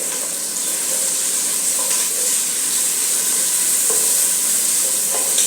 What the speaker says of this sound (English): we're going to let this saute for a while until they're soft and nice